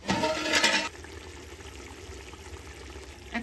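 Water pours into a pot of potatoes in a brief loud splashing gush lasting under a second, then fades to quiet kitchen background with faint bubbling.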